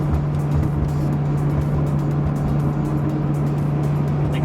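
Inside a V10 Lamborghini with a gated manual shifter, driven at about 35 mph in fourth gear on snow without snow tires, the engine keeps up a steady low drone with a strong constant hum and road rumble, unbroken and without talk.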